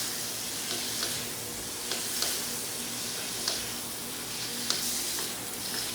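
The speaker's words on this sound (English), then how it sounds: "So we're going to let that shrimp go for a couple of minutes." Shrimp sizzle and fry in a hot pan for shrimp fried rice, a steady dense crackle with occasional louder pops, close and continuous with no talking.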